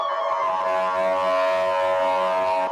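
A steady, fairly loud siren wails from an ambulance on a street during unrest with injured people, its tone holding without pause, and no talk.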